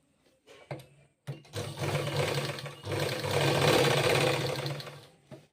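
A tailoring sewing machine stitches a simple drop V-neck on a garment, running in loud continuous bursts with short pauses and starts between runs, close and clear with no talk.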